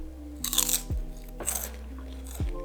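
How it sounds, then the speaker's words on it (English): Sweet chili O-Tube chips are bitten and chewed close up, giving three or four sharp, airy crunches in quick succession. "It's like airy and like crispy and crunchy."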